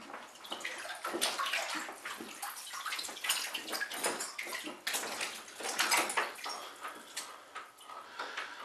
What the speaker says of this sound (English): As you can see, it's still floating around in the bathtub, so I'm going to try and push it down.